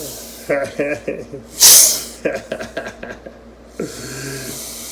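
A blood boa hissing defensively, one long sharp hiss up close between quieter breathy snorts, with someone talking around it.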